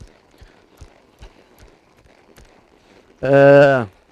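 Horse hooves clip-clopping in a steady, evenly spaced rhythm during a riding exercise in a circle, fairly faint and close, with a loud horse snort or whinny near the end.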